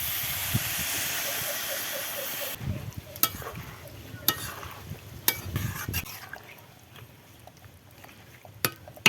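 Vegetable curry sizzling and steaming in the pan as water is poured in, a loud hiss that drops away, followed by soft stirring clatters and faint bubbling.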